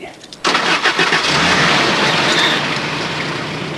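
A car engine cranks briefly and catches, then settles into a steady idle, loud and close, with no speech over it.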